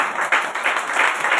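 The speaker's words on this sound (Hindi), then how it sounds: "बजाओ ताली, जोर से बजाओ" A church congregation claps loudly, a dense, continuous burst of many hands with no talking, steady and close.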